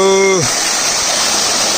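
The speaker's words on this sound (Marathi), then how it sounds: "इथे एक धबधबा वाहतोय" A waterfall near Sadashivgad fort gushes as a loud, steady, broadband roar that continues unbroken after a brief tonal sound at the start.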